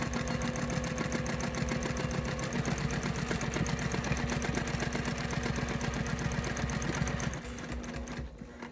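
A home sewing machine free-motion quilting stitches rapidly and continuously with a fast, even mechanical chatter and motor hum, slowing and stopping near the end.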